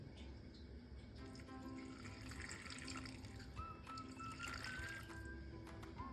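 A little water poured onto the bottom of a pot holding fried potato-and-meat patties, a faint, steady trickle and splash running throughout at low level, close and without talk.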